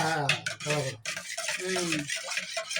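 Egg and milk are whisked together in a bowl with quick, close clinking and swishing strokes. Brief voice sounds come through in the background.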